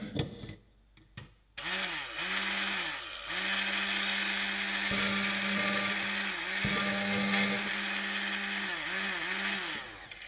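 A Siemens MQ5B150N hand blender switches on after a few soft clicks and a short handling noise, then runs with a loud steady motor whine and rising and falling pitch shifts as the load changes, close to the listener, with no talk over it.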